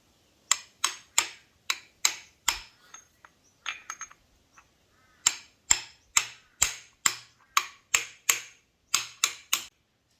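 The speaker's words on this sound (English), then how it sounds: "reckon it'll take a little bit of tapping to get it back in" A large socket used as a drift is tapped to seat a part back into an Ecotec engine, giving a steady series of sharp metallic knocks, close and fairly loud, in two runs with a short pause between them.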